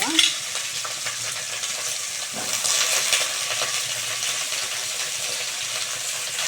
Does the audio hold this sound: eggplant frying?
yes